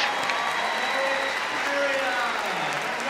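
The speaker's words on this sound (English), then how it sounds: "Lovely response from the crowd." Crowd applauding at the Crufts dog show during terrier group judging, a dense continuous wash of clapping from a large indoor audience, with a commentator talking over it.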